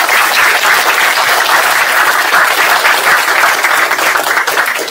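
An audience at a naval war college seminar on the Thai canal applauds the two speakers, a loud, dense, sustained burst of clapping filling the hall for several seconds without a break.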